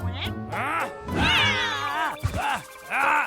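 A cartoon cat meows and yowls several times in drawn-out, wavering cries, fairly close and loud, with pauses between.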